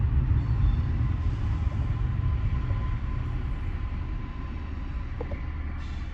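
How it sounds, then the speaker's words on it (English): A low, steady rumble of trains rolls through a rail yard, continuous and fairly loud, with faint metallic squeals near the end. "That would be the trains."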